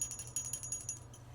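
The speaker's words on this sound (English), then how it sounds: "we have this small little green bell" A small green bell rings in a quick series of bright, high tinkling strikes, close and fairly soft, with a faint low hum running underneath and no voices.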